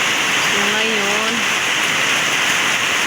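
Heavy morning rain pours in a continuous loud hiss that fills the scene, with a faint voice briefly heard beneath the downpour.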